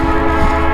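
A train sounds a loud, steady horn nearby, its sustained chord droning without a break under the low rumble of rail cars rolling past.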